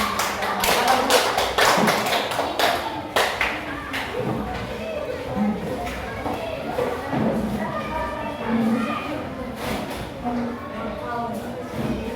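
Schoolchildren in a classroom clap their hands after a group presentation, sharp claps that are loud at first and thin into scattered, uneven taps with voices mixed in.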